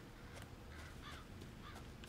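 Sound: crows cawing in the video game Resident Evil 7

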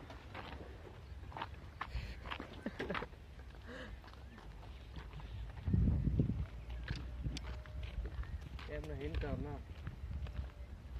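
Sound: mare with foal, horse hooves clip-clopping

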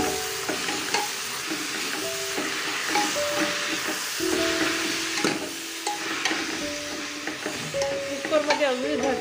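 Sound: spinach added and stirred into hot pan

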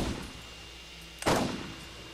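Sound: gunfire shooting turrets in the video game Borderlands

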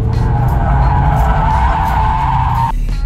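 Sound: Mazda MX-5 Miata tires skidding as rear slides out

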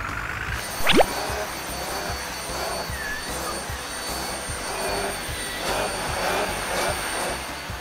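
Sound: vacuum cleaner sucking up trash

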